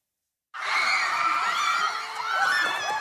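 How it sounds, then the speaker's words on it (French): Screams of terror erupt suddenly after a moment of silence during a police security exercise at an Olympic nautical stadium, several voices shrieking continuously and fairly close, rising and falling in waves. "Des cris de terreur,"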